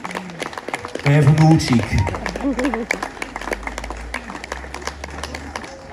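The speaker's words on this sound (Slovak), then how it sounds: "Tak, veľký potlesk aj pre malého hrdinu." Outdoor town celebration crowd in Malý Šariš applauding a young boy, steady scattered clapping throughout with a louder swell early on as voices talk nearby.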